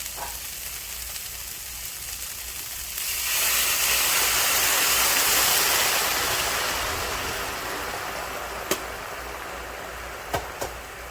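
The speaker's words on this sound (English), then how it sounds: "I'm gonna add some hot water, which is gonna turn it into a chicken broth." Hot water pours into a pot of chicken stock with seasoning, a steady rushing splash that swells for several seconds and then fades, followed by a few sharp clicks.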